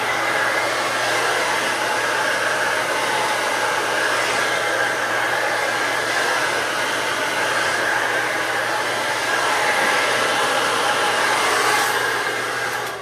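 A hair dryer blows steadily and loudly throughout during round-brush hair styling, a constant whooshing hum with no talking.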